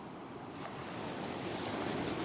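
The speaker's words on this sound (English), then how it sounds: "wait for the next wave" Ocean waves wash steadily onto a beach during surf fishing, a continuous broad rush that swells slightly louder toward the end, with no voices.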